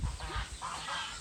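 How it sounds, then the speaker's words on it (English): Geese on an Idaho homestead honk in agitation, a short burst of rough overlapping calls heard faintly at a distance. "Those geese, I think, are a little agitated by the roosters"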